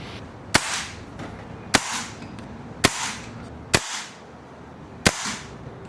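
A BRK Ghost air gun fires five sharp, loud shots at power setting 10, evenly spaced about a second apart, each a crisp crack with a short tail, with nothing else heard between them.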